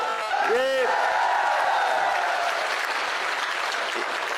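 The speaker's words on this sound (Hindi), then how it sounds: "मैं तो चाहता हूं आप सब लोग इस शाहपुरा के नौजवान विधायक के लिए जोरदार तालियां बजाओ।" A political rally crowd at a Congress nomination meeting in Shahpura bursts into sustained, loud applause and cheering, with a brief whoop near the start and clapping continuing steadily throughout.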